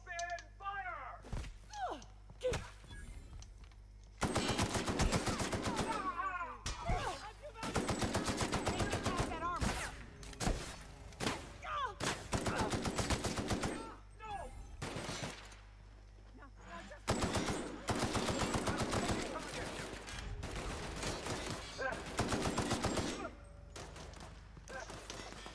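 Sustained automatic gunfire from The Outer Worlds video game rattles in long, loud bursts separated by short pauses, with thuds and mechanical clatter between volleys.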